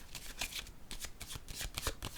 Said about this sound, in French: Je vais déposer une carte sur l'enfant.